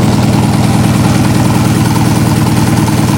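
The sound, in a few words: Honda Hondamatic 750 motorcycle engine running on three cylinders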